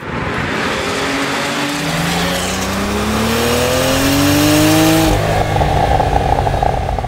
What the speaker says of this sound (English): It's got a burble when you back off, you hear the turbo rumble